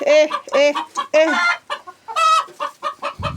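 Ducks on a rooftop give a run of loud, close quacking calls in repeated bursts, with a short low thump near the end.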